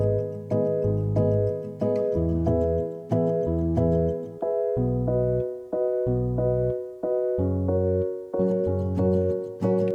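Bass line in a Studio One beat, low sustained notes in a repeating rhythmic pattern over a steady ticking beat, with no voices.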